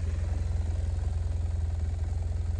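A BMW R1200GS motorcycle engine idles steadily close by, a low, even rhythmic thrum with a faint mechanical clatter and no voices.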